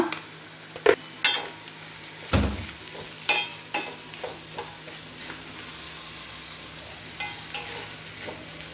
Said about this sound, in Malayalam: ഇത് നന്നായിട്ടൊന്ന് മിക്സ് ചെയ്ത് കൊടുക്കുക